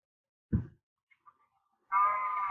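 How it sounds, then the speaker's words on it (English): A Minecraft cow on a lead, following the player: a short low grunt near the start, faint blips, then a sustained nasal tonal call that runs to the end, ending with another low thump. "this cow is just following me because I am using lead"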